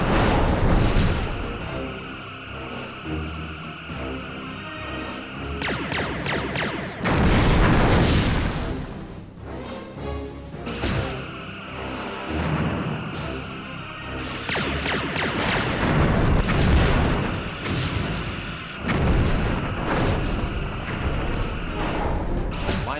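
Starship phaser fire and impacts in the Star Trek Bridge Commander space combat game, a dense, loud barrage of booming blasts and bursts layered over a continuous sci-fi weapon tone, with brief lulls between volleys.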